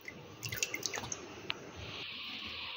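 A little oil is poured into soaked toor dal with turmeric, giving a few faint drips and liquid splashes followed by a quiet, steady trickle.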